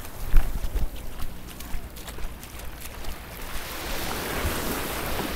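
Ocean waves wash and slosh around a floating boat ramp that rises and falls with the swell at an island port in the Philippines, a broad steady rush with occasional knocks and thumps.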